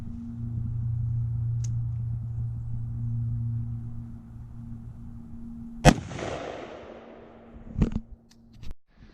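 A single sharp, loud gunshot as a green tip steel-core round is fired into a pine board box, leaving a brief decaying echo, followed by a couple of quieter knocks.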